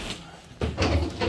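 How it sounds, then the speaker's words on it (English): A door being pushed shut in a house during carpet removal, a single thud partway through followed by brief knocking and handling sounds, close and moderately loud. "Right there, you shut the door,"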